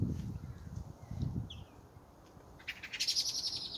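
Small birds chirp in a garden in New Zealand, with a few short high calls and a brighter burst near the end over low rustling and handling noise.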